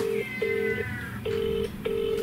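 Telephone dialing tones ring out as four clear, evenly spaced keypad beeps of about half a second each, with a faint higher warble between them and no speech.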